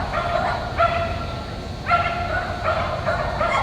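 A Cavalier King Charles Spaniel named Teddy barks at an agility run at a dog show. Repeated sharp yips come in short bursts over arena background noise.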